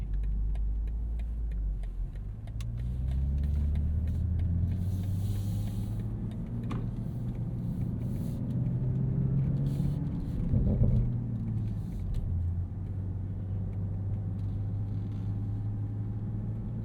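BMW M cars such as the M2, M4 and Z4 M40i drive on a performance-center track, heard from inside as a steady low engine rumble with rising and falling revs and road noise over the whole span.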